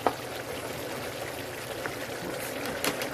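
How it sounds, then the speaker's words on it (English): Taco filling of meat, water and seasoning bubbles at a rolling boil in a pot on a kitchen stove, a close, steady hiss of churning liquid with occasional louder pops. "Well, right now it's boiling."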